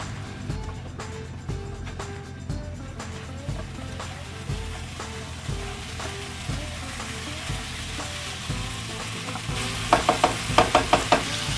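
Turmeric and pepper powder being stirred in a frying pan for chicken biryani, a spoon scraping and knocking the pan in a regular rhythm over a low sizzle, with a few quicker clinks near the end.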